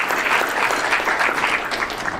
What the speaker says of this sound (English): And a round of applause for Betty and her team for convening everyon